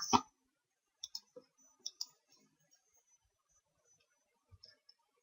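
A computer mouse clicking in circuit design software: several sharp, close clicks spaced irregularly, some in quick pairs, against near silence.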